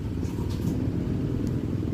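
Heavy road traffic in Manila, a steady deep rumble of cars and engines close by with no break and no talk.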